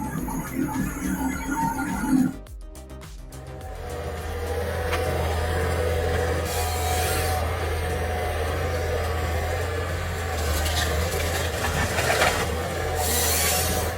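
A wood splitter working through logs with a steady, loud mechanical drone and rough wood scraping that runs throughout, no voices.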